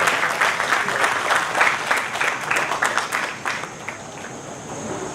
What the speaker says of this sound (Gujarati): આવો પારસભાઈને આપણે પહેલાં તાળીથી વધાવીએ.